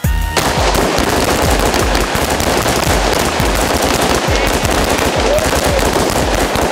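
Rapid, loud automatic gunfire bursts out without pause during a staged film scene shot for a rap making-of, dense cracking shots that fill the whole stretch up close.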